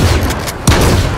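Gunfire in the video game H1Z1: rapid shots crackle continuously, and a louder burst strikes near the end.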